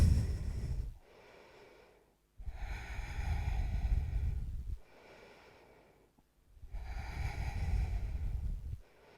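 Slow, deep breathing during a yoga forward fold in a hatha flow class, with long, airy inhales and exhales heard close and alternating with short quiet pauses.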